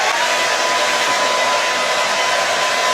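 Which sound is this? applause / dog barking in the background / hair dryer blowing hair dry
hair dryer blowing hair dry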